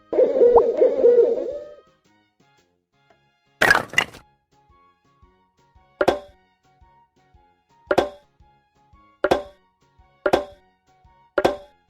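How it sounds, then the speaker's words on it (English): An owl's hoot, a breathy warbling call lasting under two seconds, heard alone and clearly near, followed by a series of sharp knocks. "Owl."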